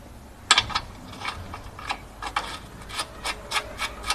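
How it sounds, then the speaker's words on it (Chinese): A nut being threaded by hand onto a car's lower control arm ball joint gives faint, close metallic scrapes and clicks at an irregular rhythm in a quiet workshop. "现在我们把下支臂的穿丝螺母给带上。"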